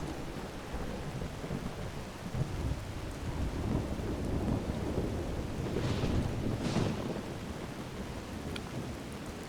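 Steady heavy rain hisses through a thunderstorm in the Skyrim video game, with low rolling thunder swelling in the middle and no voices, a constant dense wash throughout.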